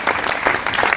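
An audience in a hall applauds a man with a dense burst of steady clapping throughout.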